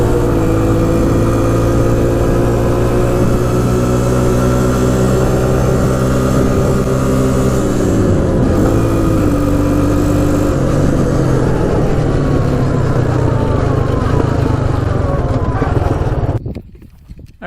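A Honda 400ex quad fitted with Stage 2 Hotcams runs loud and close, its engine droning steadily and shifting pitch as it climbs through the gears. Near the end it cuts off abruptly.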